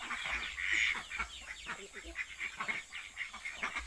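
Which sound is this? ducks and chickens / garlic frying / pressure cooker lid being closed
ducks and chickens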